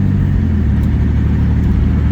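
A 1996 Ford Explorer with a blown engine drives along, its engine giving a close, steady, loud drone with low rumble throughout.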